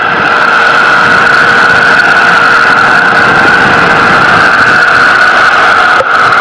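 An H-2B rocket's first-stage engine burns in flight, a continuous, loud broadband roar with a steady tonal hum that barely changes across several seconds and only dips briefly near the end.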